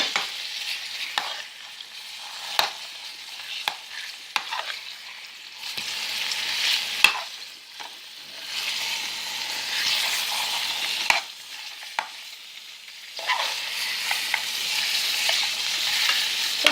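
Hot Italian sausage frying in a pan and being chopped apart with a utensil, a continuous close sizzle punctuated by sharp scraping and tapping strokes at irregular intervals, no voices.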